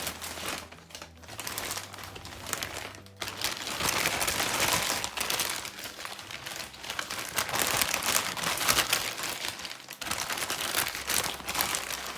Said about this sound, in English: I put another plastic bag on top of it.